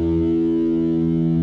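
An electric guitar with heavy distortion sustains one thick, buzzing chord, loud and steady and without any speech.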